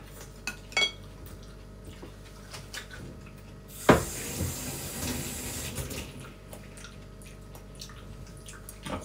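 Running tap water and clattering of a kitchen knife, dishes and utensils being washed at a home kitchen sink, with occasional clinks and a louder burst of splashing midway, no voices.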